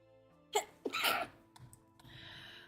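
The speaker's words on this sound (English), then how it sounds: "I feel like I'm gonna keep sneezing." A single person sneezes nearby: a quick sharp intake, then a loud burst, followed by quieter rustling and breathing.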